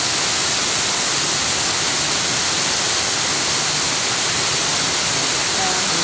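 Floodwater rushes loudly and continuously after a landslide, a dense roaring wash that fills the whole stretch with no pauses, close by and alone.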